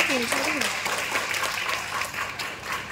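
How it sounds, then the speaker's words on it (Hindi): An audience applauds a singer at a devotional singing event, a dense wash of clapping under a voice that is heard briefly at the start. "करताली आपण माने दियंतु"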